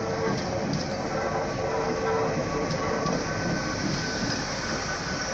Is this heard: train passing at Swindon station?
yes